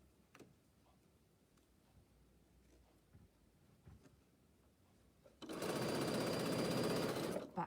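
A sewing machine back-tacks over a bag handle while a seam is sewn, quiet ticking and handling sounds at first, then a loud, steady burst of close stitching for about two seconds at the end.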